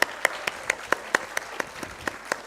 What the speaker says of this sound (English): Clap more, others,